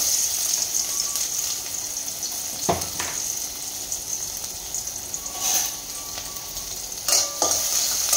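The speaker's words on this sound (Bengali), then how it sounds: "পেঁয়াজটা দিয়ে দিলাম কড়াইয়ের ভিতরে।" Chopped onion fries in oil in a hot kadai, giving a continuous moderate sizzle up close, with a few brief stirring clatters and a faint running-water hiss behind it; no one speaks.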